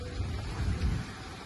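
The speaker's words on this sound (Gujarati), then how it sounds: "પણ વરસાદ ચાલુ છે થોડો થોડો" Light rain patters steadily in the background outdoors, a soft continuous wash of drops with a low rumble beneath.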